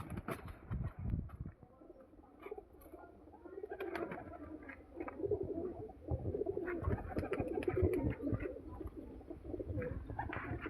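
A male teddy pigeon coos repeatedly at close range, throaty rolling calls in uneven bursts amid faint rustling and handling noise, with no talking.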